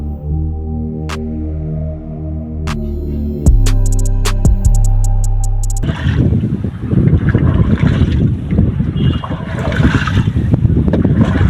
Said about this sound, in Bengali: অনেকদিন পর নৌকা চালাইতেছি নিজ অভিজ্ঞতা থেকে। আমরা এখন নদীর মাঝখানে আছি